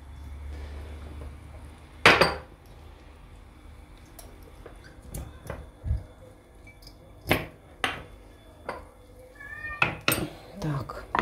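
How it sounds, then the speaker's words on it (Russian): A cat meows several times in short, separate calls in a home kitchen, mixed with clinks of dishes and cutlery while someone cooks and talks nearby. "Здесь у меня Лео мяукает"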